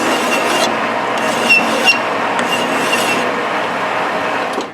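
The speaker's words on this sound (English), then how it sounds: "So I'm going to take a file and I'm going to deburr the end of this." A hand file rasps across the cut end of a threaded rod to deburr it after die threading, a close, continuous gritty scraping with short pauses between strokes.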